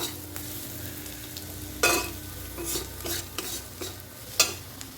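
A potato and egg mixture with chilli and turmeric being stirred in a pan, giving soft scraping strokes and a few sharper utensil clinks over a faint, low sizzle.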